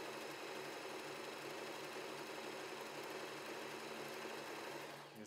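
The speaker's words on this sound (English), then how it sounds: "The machine again makes three stitches to the right and three to the left." A W6 N 1800 sewing machine runs continuously while stitching fabric in a back-and-forth zigzag pattern, a steady, close mechanical whir throughout with no talk.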